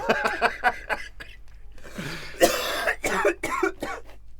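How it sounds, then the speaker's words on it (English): Someone coughs and clears their throat several times in quick bursts, close up, followed by a short chuckle and a few more rough coughs. "Oh, the cough."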